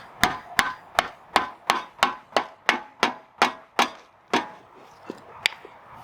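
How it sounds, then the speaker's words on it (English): A mallet drives a polyurethane differential bushing into the subframe of a BMW E46 M3 wagon, about fourteen sharp, close knocks in an even, fairly quick rhythm that slows and softens toward the end, with no voices. "I'm gonna use a mallet to push it in."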